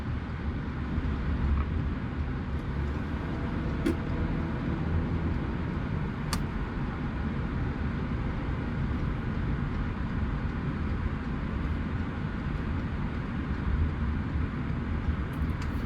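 Car driving on a road in Virginia, heard from inside as a constant low rumble of engine and tire noise that holds steady throughout, with no talk.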